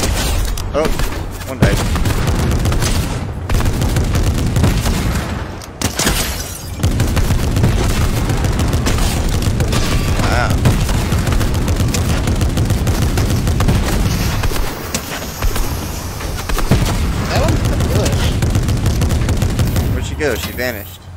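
Gunfire in Fortnite, dense and loud, with rapid shots and booms rolling almost continuously across the scene under a player's voice talking, broken by a few brief lulls.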